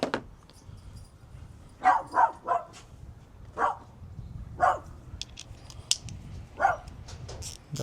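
A dog named Sky barks at the mailman in a series of sharp, moderately distant barks and yips, spaced irregularly over a low background rumble, with no talking.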